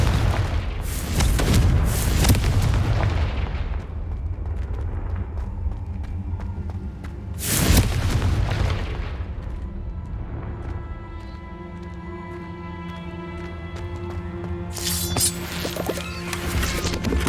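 Confringo fire-spell explosions in Hogwarts Legacy boom out as three separate loud blasts, early, in the middle and at the end, with fading rumble and ringing tones between them.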